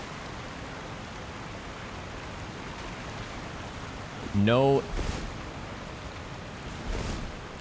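A waterfall beneath a ledge in the video game Elden Ring gives off a steady rushing hiss, heard as an unbroken wash of water throughout, with someone briefly speaking over it.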